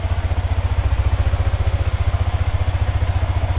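Yamaha Vixion R motorcycle engine idling while warming up, a close, loud, steady fast-pulsing putter with even rhythmic beats and a slight clatter, no voices.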